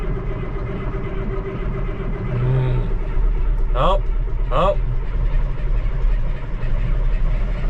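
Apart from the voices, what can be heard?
tractor engine starting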